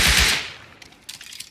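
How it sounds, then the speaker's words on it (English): Semi-automatic rifle fire in the video game Rust: a quick burst of close, loud shots at the start, then a few fainter, scattered cracks trailing off. "Hit semi-automatic 4 times."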